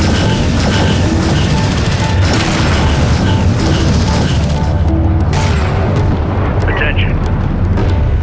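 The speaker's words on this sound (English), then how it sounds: "Alert, turret post destroyed." Dense, continuous roar of explosions and gunfire as a turret post is destroyed in Homeworld: Deserts of Kharak, loud and sustained with booming impacts under a synthetic alert voice.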